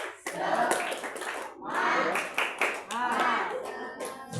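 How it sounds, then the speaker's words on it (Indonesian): An audience at a Maulid gathering claps a rhythmic 'tepuk semangat' spirit clap, in bursts of quick patterned clapping separated by brief pauses, with voices mixed in. "tepuk semangat"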